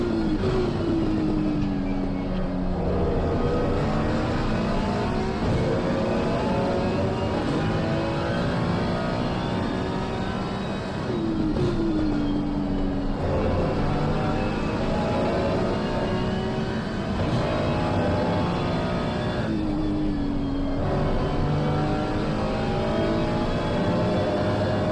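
Race car engines in Assetto Corsa Competizione at Barcelona, including a McLaren, rise in loud sustained revving with sharp drops at each gear shift, repeating through the straight.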